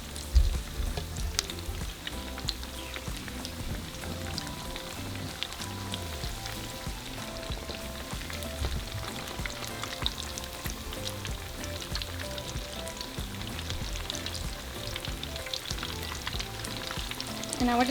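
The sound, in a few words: cheesy potato cakes frying in oil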